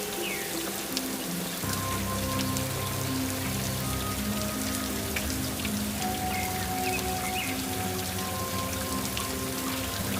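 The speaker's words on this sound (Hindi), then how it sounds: "कुछ ही देर में तेज बारिश शुरू हो गई।" Heavy rain pours steadily in a cartoon jungle, a dense constant hiss of drops on surfaces with a faint tonal music bed underneath and no voices.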